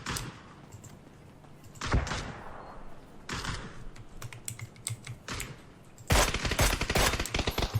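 Rapid bursts of video game gunfire come in several volleys, sharp and crackling, with the loudest, densest burst near the end.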